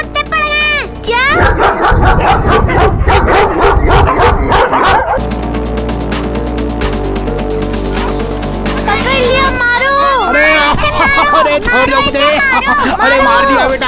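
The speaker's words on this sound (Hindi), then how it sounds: "हमारे पीछे कुत्ते पड़ गए" Dogs bark and yelp repeatedly while chasing people in a children's comedy short, the sharp barks coming in quick bursts over shouting voices and a busy, noisy background.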